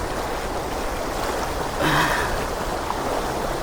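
A strong river current rushes in a continuous broadband wash, close and steady, with a brief louder surge and splash partway through.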